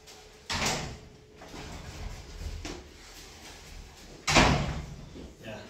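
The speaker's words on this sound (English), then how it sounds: "door cabinet, high level, ceiling, the sliding door." The sliding door of a high, ceiling-level master bedroom cabinet rolls along its track in two separate bursts, each a quick rumbling slide ending in a knock, with faint background noise between them.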